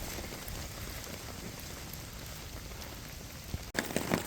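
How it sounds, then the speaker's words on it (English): Steady rain patters on a tarp overhead in a dense, even hiss, close and continuous, with a brief shuffle near the end. "There's something quite nice about having hot chocolate while you're sitting under a tarp. It's absolutely raining outside."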